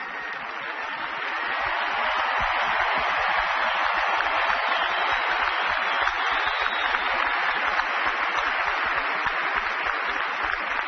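A large New York crowd applauds the 2006 US Open women's tennis final, with steady, dense clapping that swells slightly and holds loud and unbroken throughout, no speech over it.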